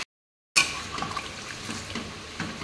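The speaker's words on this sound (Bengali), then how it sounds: "গরম জলটা দিয়ে দেবো।" Hot water poured into a pot of chicken curry being cooked: after a brief silence, a steady splashing pour starts and continues close by.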